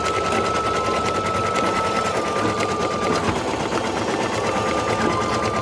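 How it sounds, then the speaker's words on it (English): Embroidery machine stitching outlines on a felt mask, a loud, continuous, rapid needle chatter with a steady high whine, running uninterrupted throughout. "it is going to stitch the entire mask, the whole outline, the eyes, and the holes for the mask elastic"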